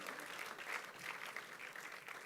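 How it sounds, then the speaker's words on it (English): A round of applause at a craft beer industry event: many hands clapping steadily at moderate distance, a continuous, fairly faint wash of claps without a clear start or finish. "a big round of applause for Joe Weeb"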